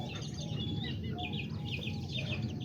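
Miniature chickens and roosters, Aztecas and Seramas, cluck and call repeatedly in a busy flock, several birds overlapping at close range over a steady low background rumble.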